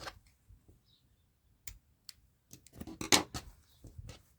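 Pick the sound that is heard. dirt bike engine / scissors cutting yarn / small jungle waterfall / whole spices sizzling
scissors cutting yarn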